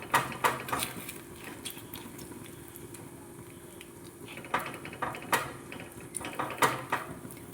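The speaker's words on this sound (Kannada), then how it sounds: "ಈ ಥರ ನೀರನ್ನು ಸ್ಪ್ರೆಡ್ ಮಾಡಿಕೊಂಡು ಈ ಥರ ಬಡಿಬೇಕಾಗುತ್ತೆ" Wet hands slapping and patting ragi rotti dough flat with water, a series of light irregular pats and taps close by, quiet at first and growing busier toward the end.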